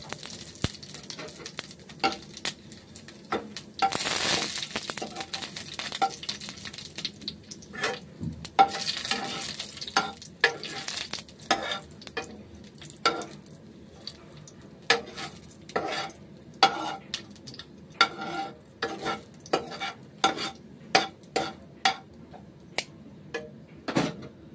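Dry red chilies, bay leaves and panch phoron frying in hot oil, a steady crackling sizzle broken by sharp pops and spatters, with a dense burst early on and scattered louder crackles through the rest.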